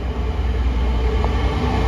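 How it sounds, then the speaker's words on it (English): A freight train bound from Runcorn Folly Lane rolls past at a Cheshire trackside near Acton, a steady, loud low rumble of wagons that holds even throughout. "Next freight train to pass by is going to be a service from Runcorn Folly Lane to"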